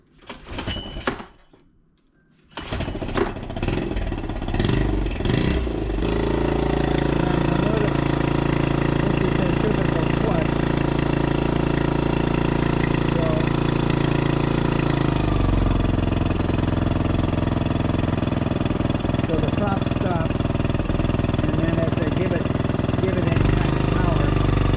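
After a few knocks and a pull-start, a small Honda 2HP outboard engine catches and settles into a loud, steady idle, running continuously as it warms up, with brief talk near the start.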